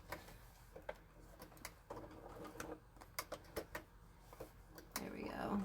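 A sewing machine stitching a fabric bag, heard faintly as a quiet run of irregular mechanical ticks and clicks at close range.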